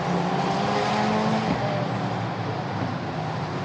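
Formula Regional race cars circle the Mugello Circuit in Tuscany, a steady roar of engines with a high whine sliding in pitch, heard from trackside without talk.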